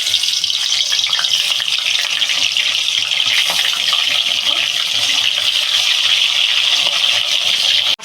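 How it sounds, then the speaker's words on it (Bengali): Rohu fish frying in hot oil, a loud, continuous, close sizzle that holds steady for several seconds and then cuts off sharply at the end, with no talking. "তেলটা আমার গরম হয়ে গেছে মাছগুলো দিয়ে দেবো"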